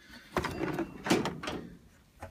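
Drawer of a Husky 52-inch 18-drawer tool chest rolling open on its slides, a couple of close metallic scraping and sliding bursts with a soft clunk, heard alone.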